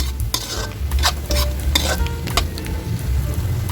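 Fried tofu being stirred into sautéed bean sprouts in a hot pan, with busy close scraping and clattering strokes over a continuous sizzle, fairly loud and steady throughout.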